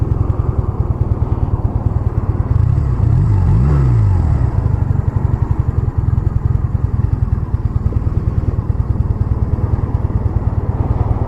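An old Honda CB 250 Nighthawk motorcycle idles in a steady, rapid low putter, with one short rise and fall of revving partway through, heard up close and loud with no talking.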